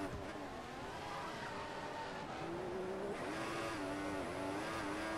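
Formula 1 race car engine in the racing game F1 2014 at the Monaco Grand Prix, a loud, steady high-pitched whine that climbs and shifts through gears over several seconds, with continuous engine noise filling the clip and no talk.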